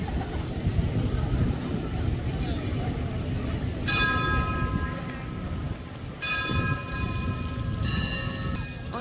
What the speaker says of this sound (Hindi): और सबसे ज़्यादा खूबसूरत है ये घंटियाँ जो बज रही हैं।